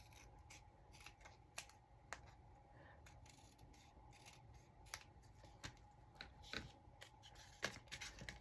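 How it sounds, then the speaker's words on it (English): Scissors snip through the edge of paper while making vintage-style mini file folders, a series of faint, close, irregular crisp clicks and cuts against a quiet room background. "And then I'll just cut off the edge."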